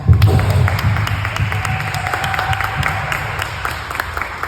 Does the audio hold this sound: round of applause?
yes